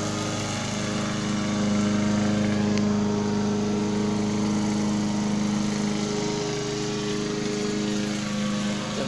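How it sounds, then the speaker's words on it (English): A lawn mower engine drones steadily and loudly outdoors, a continuous buzzing hum that holds without a break throughout. "my dad mowing"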